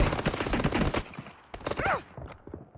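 Gunfire rattles through a video game in rapid bursts of machine-gun shots, dense at first and then sparser, loud and close, with no talking over it.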